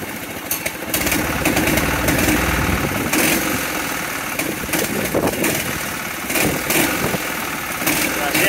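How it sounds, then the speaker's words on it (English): A small go-kart engine runs loudly and close throughout, holding a steady rough drone with slight rises in revs. "Rev it up."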